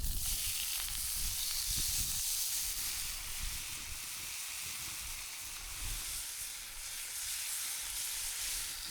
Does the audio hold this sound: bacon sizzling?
yes